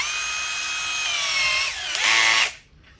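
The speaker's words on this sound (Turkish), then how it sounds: "profesyonel seri bir şarj matkap" A professional-series 18-volt cordless lithium drill runs steadily at close range with a bright whine, its pitch shifting briefly before a final surge and abrupt stop; no voices.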